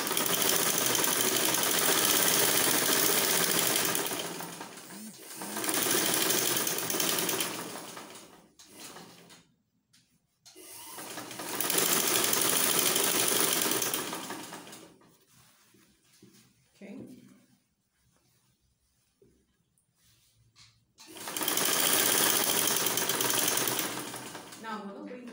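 A sewing machine stitches a side pocket in three sustained bursts of rapid whirring, separated by quiet pauses with faint handling noises.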